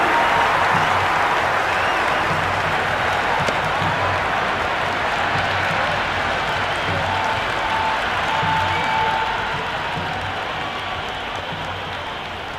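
Steady, dense applause from a large stadium crowd in a Cricket 26 Test match between India and South Africa, sustained broad clapping with a faint murmur throughout and easing slightly near the end, with no talk over it.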